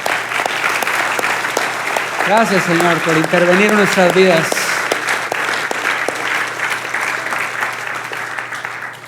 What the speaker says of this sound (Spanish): Le das un fuerte aplauso al Señor por eso.